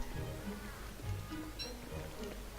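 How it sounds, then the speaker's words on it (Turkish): Buzzing of a fly in the survival video game Don't Starve Shipwrecked, heard as a thin, wavering drone over a steady low ambient game background, fairly faint and continuous throughout. "Yakından sanki bir sinek vızıltı sesleri falan geliyor."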